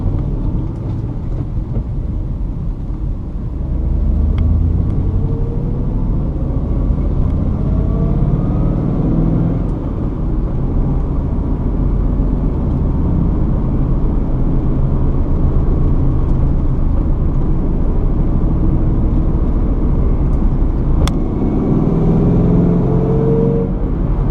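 Ford Mustang GT V8 engine revving hard toward 5,000–6,000 rpm while driving, a loud, continuous roar with rising pitch sweeps and no talk.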